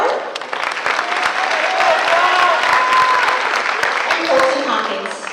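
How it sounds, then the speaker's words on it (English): An audience at a high school commencement ceremony claps steadily and evenly throughout for the graduates, with some cheering and voices mixed into the applause. "Let's give all of our students a well-deserved round of applause"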